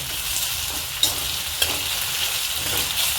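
Onion sautéing in a pan until browned for aloo matar, an even, close frying hiss with a couple of brief stirring taps.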